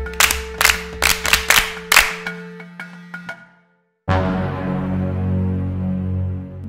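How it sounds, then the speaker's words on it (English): A classroom of pupils claps in a few scattered bursts that fade out, followed after a short silence by a sustained electronic musical tone. "Clap for yourselves."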